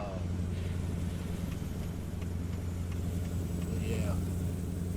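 A 1974 Kenworth W900A truck engine in American Truck Simulator drones with a deep, steady low rumble throughout, close and constant, while someone talks over it.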